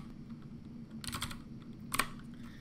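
Two short, faint bursts of keystrokes on a computer keyboard at a Windows 10 PC, quick clicks about a second apart over low background hum.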